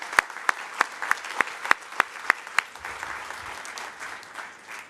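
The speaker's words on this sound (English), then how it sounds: "Let's give our deans a real round of applause." An audience at a Harvard Divinity School event applauds the deans, with sharp, evenly spaced loud claps from nearby over softer crowd clapping that trails off after a few seconds.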